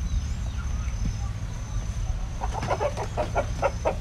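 Índio Gigante chickens at a breeding farm, a large flock of young birds near and far, with a low steady murmur of background noise and a burst of clucking in the second half. Nobody speaks.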